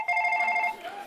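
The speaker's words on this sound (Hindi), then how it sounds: "ग्राहक के फोन भी आने शुरू हो गए हैं।" A telephone rings with a bright electronic warble from a customer calling about a home delivery of groceries, a single short burst close by that fades into background noise.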